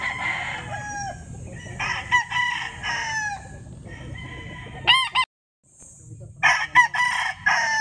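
Roosters at a Philippine poultry spot crow several times, close by and loud, with clucking between calls and a short silent gap before more crowing.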